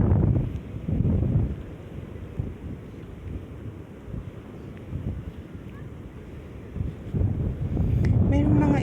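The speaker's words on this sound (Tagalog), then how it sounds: "Ang ganda ng hangin." Wind gusts buffet the microphone on a beach at low tide, rumbling in uneven surges that are strongest at the start and end.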